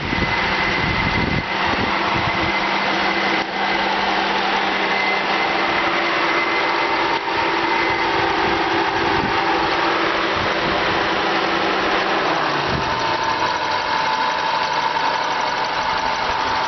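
A 1995 Mitsubishi FTO GS with its MIVEC engine idles close by, a steady, fairly loud hum with faint mechanical ticking and a slight shift in tone toward the end.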